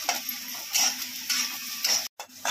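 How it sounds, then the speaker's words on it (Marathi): Finely chopped onion frying in hot oil, giving a continuous close sizzle with light stirring scrapes and occasional ticking taps from a utensil, with no voices. "कांदा चांगला हलका गुलाबी रंगावरती आपण फ्राय करून घेऊया"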